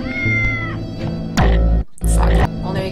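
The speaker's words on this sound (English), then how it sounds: "But why do the bunnies meow?" Bunnies in the video game Braid meow in a loud, drawn-out cat-like call over layered game music, with a short break of silence before the sound resumes.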